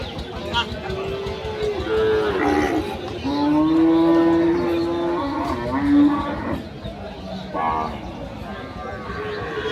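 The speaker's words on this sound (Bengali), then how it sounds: "খালি গরু আর গরু।" Cattle at a large village livestock market at Bamondi bazar in Gangni, Meherpur, give several deep, drawn-out moos close by, over a busy background of crowd chatter and voices.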